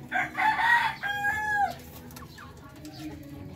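Roosters crowing nearby with hens in a backyard flock, one strained cock-a-doodle-doo over the first couple of seconds followed by quieter clucking and faint background sounds.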